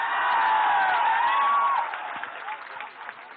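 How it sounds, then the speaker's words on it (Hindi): Audience applause welcoming a poet at a Hindi kavi sammelan, a dense, loud burst of clapping from a large crowd that holds steady and then thins out into scattered claps. "एक बार जोरदार ताली से स्वागत कर दीजिए"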